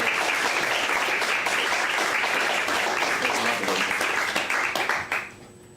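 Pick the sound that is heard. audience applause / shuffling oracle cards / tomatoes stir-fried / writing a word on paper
audience applause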